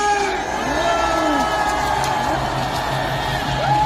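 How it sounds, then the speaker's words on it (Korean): A large crowd at an outdoor March 1st rally in Gwanghwamun cheers and shouts loudly, with whoops and a steady roar throughout and voices rising above the din. "여러분, 함성을 주시다!"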